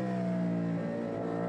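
A 75-horsepower Aprilia RS660 race motorcycle revs hard during the Sydney 2 Hour race, a loud, close, continuous engine howl with a short pitch dip midway before climbing again.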